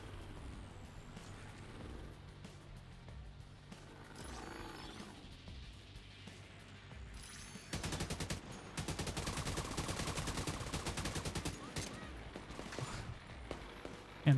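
Rapid bursts of AK rifle fire in The Division 2, a game firefight during a defend wave, start midway and run dense and loud to the end over a rumbling, noisy game background.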